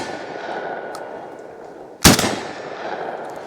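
A Panzer Arms AK Twelve semi-automatic shotgun fires one loud, sharp shot at an outdoor range. A steady background hiss comes before the blast, and the report decays quickly afterward.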